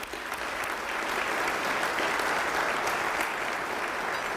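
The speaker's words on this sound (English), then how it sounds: "Let's give our students today, I know they've left, a round of applause for their participation in today's" Audience applauding students at a county State of the County address: dense, steady clapping from a large crowd that swells slightly and holds for several seconds, no clear speech.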